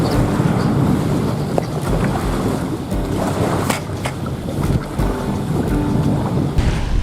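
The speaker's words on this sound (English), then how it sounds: "Wind's blowing in here, crashing waves." Steady wind gusts and waves breaking along an Iowa lake shoreline on a spring morning, a loud, continuous wash of noise with no voices.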